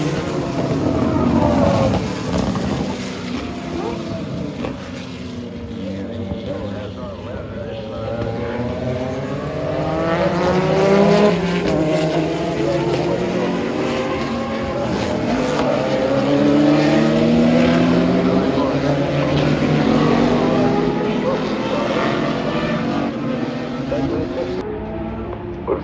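Race cars accelerating from a green flag start at a historic motorsports reunion, engines climbing and sweeping past in a loud, layered roar with rising and falling pitch as the field charges away.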